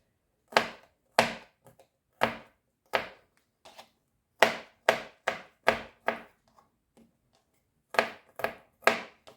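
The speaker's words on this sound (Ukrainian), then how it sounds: "два зубки чесничку дрібненько наріжу зараз" Two garlic cloves are chopped finely on a wooden board, making sharp, close knife chops in irregular bursts of two to four strokes with short pauses between them.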